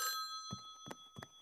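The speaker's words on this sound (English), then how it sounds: "Hey, it's the Super Toopy phone." The cartoon Super Toopy phone rings with a steady electronic tone, followed by three evenly spaced thudding knocks, close and moderately quiet.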